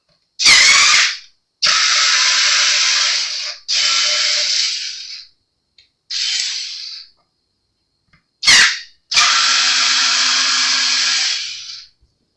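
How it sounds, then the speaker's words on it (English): Power screwdriver whirring through screws on a Silvertone, in several loud sustained bursts of a few seconds each, separated by short pauses and sharp clicks. "Let's pull these screws out."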